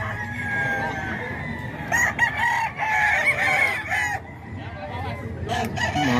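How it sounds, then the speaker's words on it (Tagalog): Kuya Hapon's gamefowl rooster crows loudly among other birds offered for sale, repeated crowing over a busy background with people talking nearby. "Ito mga ka-idol, yung manok naman ni Kuya Hapon to mga ka-idol."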